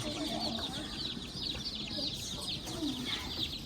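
Many chicks cheep in a constant, high-pitched chorus of soft peeps, close by and fairly quiet.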